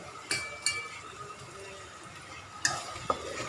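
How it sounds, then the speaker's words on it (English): Onions, curry leaves and ginger fry in a pan for fish rendang with a quiet, steady sizzle. A few distinct metallic clinks of a stirring utensil come near the start and end. No one speaks. "fry the onions, curry leaf, and ginger"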